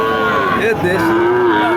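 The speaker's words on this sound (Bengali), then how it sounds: "আপনারা শুনলেন এই যে বাসুরটা" A young female calf of a native Bangladeshi breed gives one long, loud, drawn-out moo close by, wavering slightly in pitch, at a calf market.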